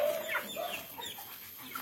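Chickens cluck softly in a coop on a small farm, a few short clucks and murmurs close by against faint background hiss.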